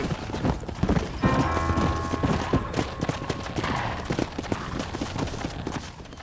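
Rapid clip-clop of horse hooves trotting close by in the video game Red Dead Redemption, steady and busy, with brief gunfire-like bursts and faint voices in the background.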